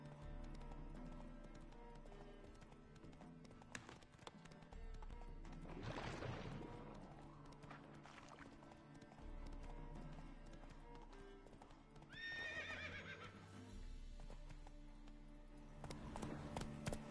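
Geralt's horse Roach in The Witcher 3 gallops with steady, rhythmic hoofbeats under a low game soundscape, and a clear neigh rings out partway through; faint overall.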